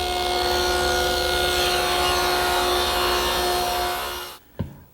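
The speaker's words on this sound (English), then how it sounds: "now the bit that I'm using is a 1/2-inch cove bit" A router fitted with a 1/2-inch cove bit cuts a wooden molding edge, giving a loud, steady high-pitched whine with no talk over it, which stops abruptly near the end and is followed by a single faint knock.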